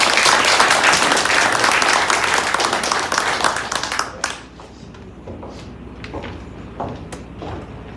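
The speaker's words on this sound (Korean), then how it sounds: "모두 박수로 환영해 주시기 바랍니다." An audience claps loudly and steadily to welcome a speaker at an invited lecture in a church hall. The applause fades out sharply after about four seconds, leaving quieter room sounds with a few scattered knocks.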